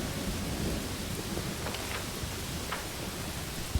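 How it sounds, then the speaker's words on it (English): Heavy rain and rolling thunder from a lightning storm in the video game Pathfinder: Wrath of the Righteous, a dense constant downpour with low rumbles throughout and a brief crack at the end. "And now we have a horrible storm to get through."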